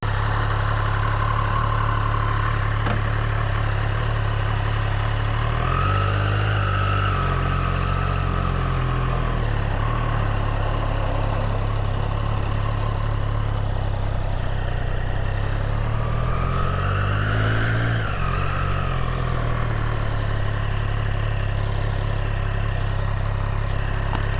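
A 2024 Triumph Street Triple 765 RS idles steadily close by, its mid-pitched engine drone continuous throughout, with two short rising revs partway through.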